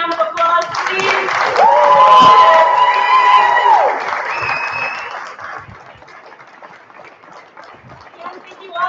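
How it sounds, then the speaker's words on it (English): A conference audience gives a standing round of applause. The clapping and cheering swell and hold for several seconds, then fade, with a few voices and shouts mixed in. "Can we get a round of applause, please?"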